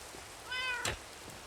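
Cat meowing in the video game Minecraft, a single short, fairly faint meow over a soft background hiss.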